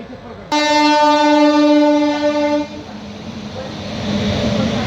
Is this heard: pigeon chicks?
no